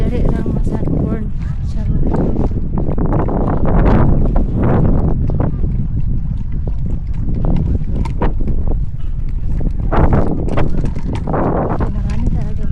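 Gusty wind sweeps across a hiking trail in Hong Kong's Sai Kung UNESCO Global Geopark on a hot, breezy day. It buffets the microphone in loud, rumbling surges, with faint talk beneath.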